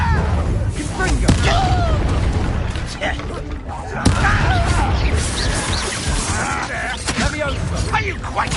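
A Confringo blasting spell fired in Hogwarts Legacy explodes in heavy booming crashes amid dense battle noise and clatter, loud and close, with voices talking over the fight.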